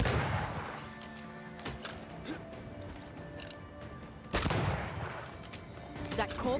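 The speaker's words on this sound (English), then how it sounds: "That corpse is gonna shoot." Loud in-game gunfire from a corpse enemy in Banishers: Ghosts of New Eden, with two heavy blasts near the start and around four seconds, each decaying into a rumbling tail over a noisy game soundscape.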